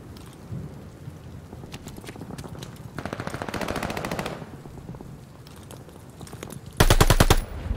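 Rapid automatic gunfire from Call of Duty Vanguard in a ranked hardpoint match, several bursts of shots with the loudest and nearest salvo crackling near the end.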